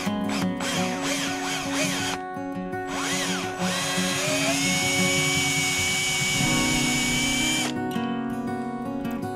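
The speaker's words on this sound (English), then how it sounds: "slowly drilled through the pre-drilled holes, probing for the counterbalance armhole as I went along" Power drill boring slowly through pre-drilled holes in the stabilator attach parts of a Van's RV-12iS aircraft kit, a steady close whine that rises in pitch partway through and stops near the end.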